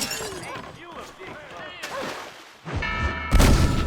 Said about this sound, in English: Explosion doesn't damage the tracks in any way.